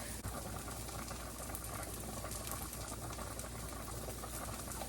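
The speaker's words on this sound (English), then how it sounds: "after that flour's been whisked, we're going to add some milk" Milk poured into whisked flour in a pot while making cheeseburger pasta, heard as a steady, dense liquid rush and bubbling hiss that continues unbroken at an even level throughout.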